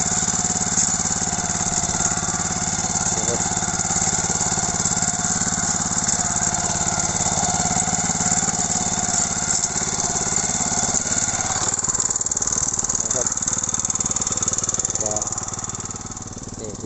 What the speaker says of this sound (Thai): รถไถมินิจิบจิบครับ